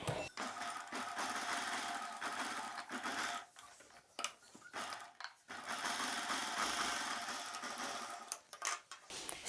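A sewing machine runs in long bursts of stitching on a silk saree blouse, steady and close, with a few short pauses between runs.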